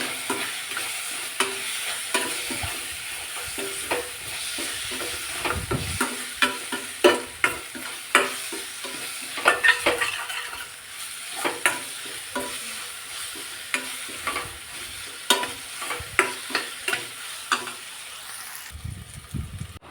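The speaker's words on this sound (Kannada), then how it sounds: "ಇವಾಗ ಎಲ್ಲನೂ ಸೇರಿಸಿ ಆದಮೇಲೆ ಒಂದೊಳ್ಳೆ ಮಿಕ್ಸ್ ಕೊಟ್ಕೊಳ್ಳೋಣ" Noodles with red chili sauce and noodle masala are stirred in a hot pan, giving repeated sharp scraping and clacking strokes over a soft continuous sizzle, close and fairly loud, with no talking.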